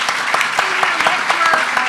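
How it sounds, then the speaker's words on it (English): An audience gives a hearty round of applause for an honoree at a formal ceremony, a dense, steady patter of many hands clapping close by. "please join me in a hearty round of applause for Gomes honoree Ann D. Braude,"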